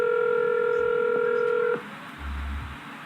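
A telephone call being dialed, with a steady dial tone that cuts off into a quiet wait for pickup, then a short low hum, with no talk.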